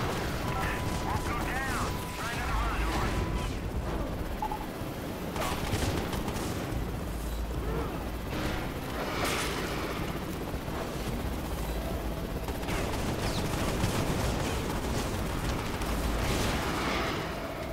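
An artillery strike pounds away in the video game Prototype, with continuous heavy gunfire and booming blasts rumbling for the whole stretch while radio-style voices talk over the barrage.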